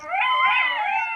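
Jackal howling in the distance at night, a short wavering chorus of layered high howls, steady and fairly loud, heard alone.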